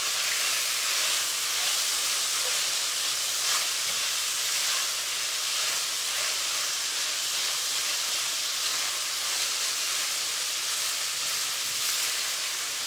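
A constant, even sizzle of beef and asparagus frying in a hot pan, bright crackling hiss that continues without pause and with no talking.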